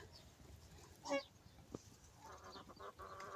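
A hen clucks faintly at a farm flock, one brief squawk rising over low background noise, then softer scattered clucks.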